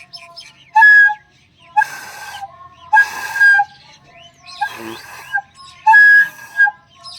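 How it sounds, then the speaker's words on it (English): A beginner blows breathy, airy flute notes on the first hole unevenly, several wavering bursts with a hissing, unfocused tone and short gaps between them. "the moment you take flute, we end up playing this kind of sound."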